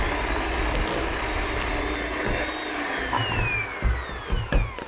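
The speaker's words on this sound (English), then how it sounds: "just whisk all this together until it's a nice creamy consistency" An electric whisk creams butter and sugar in a jug for a Battenberg cake: a close, continuous motor whine with shifting pitch, ending in a few uneven bumps and surges.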